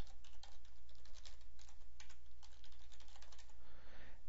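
An administrator password is typed on a computer keyboard during server software setup, a quick close run of light key taps in uneven bursts over a low hum with no talk.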